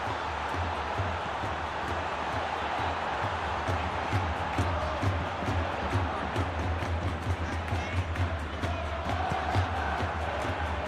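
A stadium crowd at a Flamengo vs Pyramids football match roars and cheers in a continuous, dense wash of noise with scattered claps and shouts across the whole stretch.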